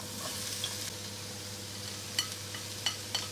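Sliced carrot, onion and pak choy stir-fried for chicken chow mein, a soft steady sizzle with a few sharp clinks and scrapes of the utensil against the pan near the end.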